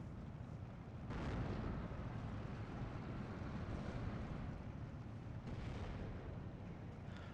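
Artillery shells from 57mm guns landing in the video game Steel Division 2, heard as distant, rumbling blasts that keep coming over a steady low roar, with a heavier swell of impacts midway.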